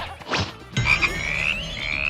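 A frog croaks in an anime fight scene, a couple of rasping calls followed by a longer warbling, rising croak, close and clear with no talk over it.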